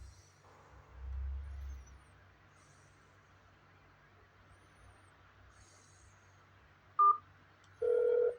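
Telephone keypad tones sound in an automated phone menu, two short separated beeps near the end over a quiet line hiss with a low rumble early on, and no voices.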